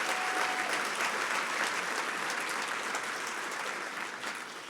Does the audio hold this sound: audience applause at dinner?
yes